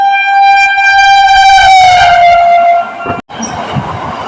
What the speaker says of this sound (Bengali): ট্রেন যাচ্ছে, হ্যাঁ বর্ধমান হাওড়া লোকাল ট্রেন যাচ্ছে।